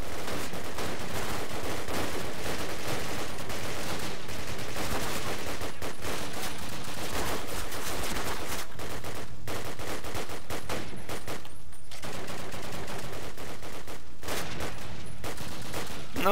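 Sustained gunfire in the Call of Duty video game, dense overlapping rifle and machine-gun bursts crackling continuously at a loud level, with brief dips between volleys and no talk.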